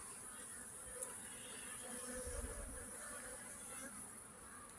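Honeybees busy around the hives of an apiary on a dry day, giving a steady, dense buzzing hum that holds throughout with no talk.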